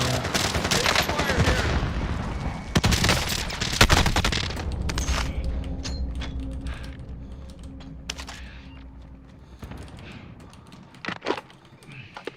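Rapid bursts of gunfire in a battle-royale video game with closing gas, loud and dense in the first few seconds and then thinning to scattered shots over a low game hum, mixed with keyboard clatter.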